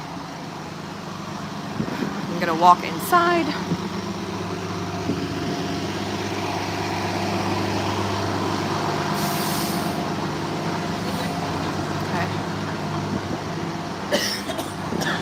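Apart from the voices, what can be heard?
loud buses passing with air brakes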